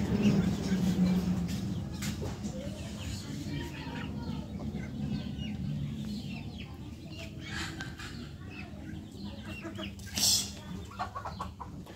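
A rooster, chickens and ducks cluck in a village yard in the evening, with a steady low din of birds close by and a sharper call near the end.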